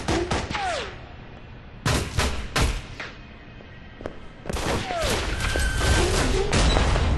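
Gunfire in an Alpha Protocol video game cutscene: several sharp shots and bursts with thuds come in separated clusters, loud and close, with a steady rumble beneath and no talk.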